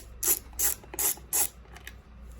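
Four short metallic ratcheting bursts, evenly spaced and close, from a tool tightening the battery terminals on a Triumph Trident 660 motorcycle, followed by a few faint clicks.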